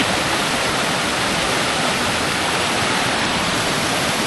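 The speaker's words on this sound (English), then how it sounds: "This is a creek." A swollen creek in West Virginia rushing hard after heavy rain, with a loud, dense, unbroken roar of water close by.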